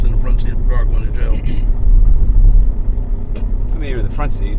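A car drives along with a steady low road and engine rumble heard from the front seat, running continuously under a man's speech.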